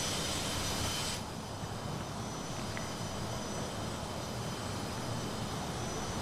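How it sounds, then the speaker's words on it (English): BAE 146 jet airliner taxiing in the Airport CEO game, a steady faint engine whine and rumble with a high tone that drops away early, no talking. "There you go, this plane is now parking itself up."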